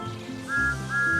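A train engine's whistle sounds loud and close: a bright, sustained tone that rises in pitch, briefly breaks, then sounds again.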